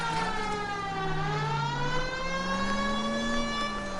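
Police siren in a driving video game wails in a steady rising and falling tone, loud and close, continuous throughout with no talking.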